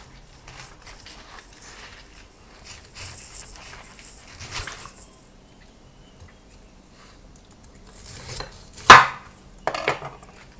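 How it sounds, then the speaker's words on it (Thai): Scattered knife cuts through pineapple on a cutting board, soft and irregular, building to a sharp chop near the end with a couple of smaller cuts after. "ทีนี้ก็จะหั่นสับปะรดนะคะ"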